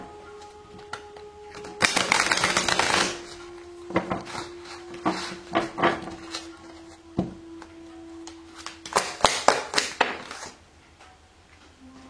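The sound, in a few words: shuffling tarot cards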